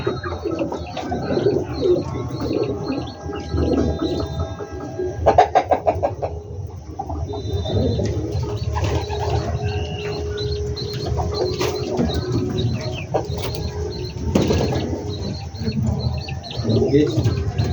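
Several pigeons coo continuously in low, throaty bursts, nearby, with a few other birds chirping and some background clatter.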